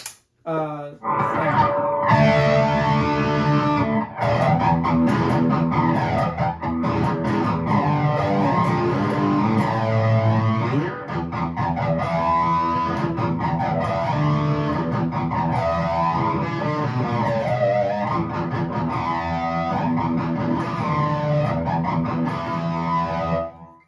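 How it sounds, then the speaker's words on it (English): An electric guitar runs through a Kaleen CP66 flanger pedal stacked with a TS9 overdrive, playing sustained, sweeping chords with a swirling, distorted tone that stays loud and continuous throughout. "So that's the flanger with the TS9."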